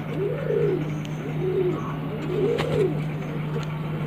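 A kaldume pigeon coos close by, giving soft repeated rolling coos in a slow rhythm over a steady low hum.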